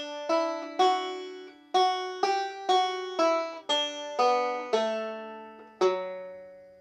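Plucked banjo notes from the bluegrass reel Saint Anne's Reel ring out one at a time in a steady, unhurried rhythm, close and moderately quiet, each note decaying before the next.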